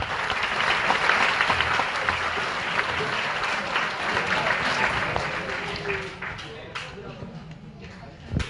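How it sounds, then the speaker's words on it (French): Sustained applause from a crowd at an evening label award ceremony, loud and dense throughout, thinning slightly toward the end. "Vous pouvez l'applaudir dès maintenant"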